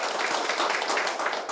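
Audience applause at a Seoul youth-parent support policy forum, a steady, dense wash of clapping filling the room throughout, with no talk over it.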